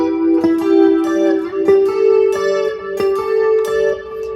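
A lead electric guitar picks out a sustained melody, notes ringing and overlapping with chorus-like shimmer, no other instruments or voices.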